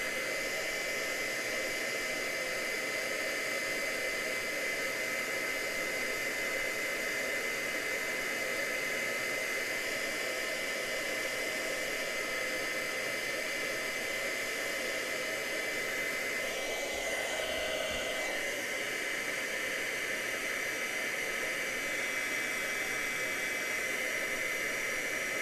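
A heat gun blows a steady, loud whooshing roar while melting powder coating, running continuously and unchanging the whole time with no voices over it.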